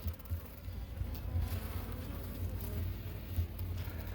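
Honey bees buzzing softly in an open hive during an inspection, a faint, steady hum with small flickers, close up and with no talking.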